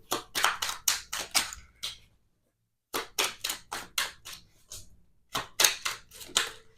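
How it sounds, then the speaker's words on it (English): Tarot cards riffle-shuffled in quick bursts of crisp, papery flutters, close and fairly loud, with a short pause between runs and no talk. "One more shuffle."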